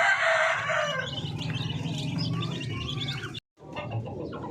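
Free-range paraoakan native chickens on a farm, a rooster crowing loudly near the start and clucking and chirping through the rest, with a brief dropout before the sounds resume.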